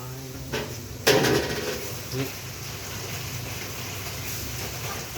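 Holy basil is stir-fried in a pan for crispy pork pad kra pao, with scattered metallic clanks and scrapes of a utensil against the pan, one sharp hit standing out, under a steady background hum while someone talks.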